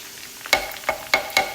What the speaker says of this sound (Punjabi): ਹੁਣ ਆਪਾਂ ਆਪਣਾ ਕੁੱਟਿਆ ਹੋਇਆ ਲਸਣ ਐਡ ਕਰਾਂਗੇ ਇਹਦੇ ਵਿੱਚ